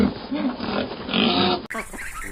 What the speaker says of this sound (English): Pig. This is a farm animal.